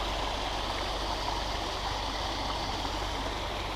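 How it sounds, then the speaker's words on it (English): A stream tumbles down a continuous waterfall through woods on the Trans Pennine Trail in South Yorkshire, a steady, even rush of flowing water with no voices. "It's actually waterfall all the way down."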